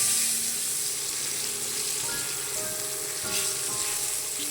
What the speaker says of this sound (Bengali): এবার কাঁচা লঙ্কাটা আমি যেটা চিড়ে রেখেছিলাম সেটা আমি কাঁচা লঙ্কাটা দিয়ে দিচ্ছি। এবার একটু ভেজে নেবো আমি